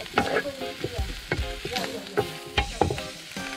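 Yellow and green hot chili peppers fry in a pan for Peruvian guinea pig tripe, a steady close sizzle broken by regular scraping strokes of a stirring spoon.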